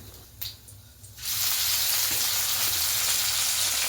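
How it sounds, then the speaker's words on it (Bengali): Cumin seeds hit hot oil and burst into a loud, steady sizzle after a quieter opening second, a bright continuous hiss up close with no voices. "তার জন্য জিরা ফোড়ন দেওয়া হয়েছে"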